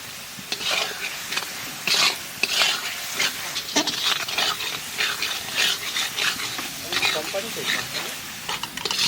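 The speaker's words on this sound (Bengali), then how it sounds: "মশলা কষানো হয়ে গেছে" Spices with Kashmiri chilli powder, turmeric and salt are sautéed and stirred in a pan, giving a continuous close sizzle with frequent rhythmic spatula scrapes, a voice also audible at times.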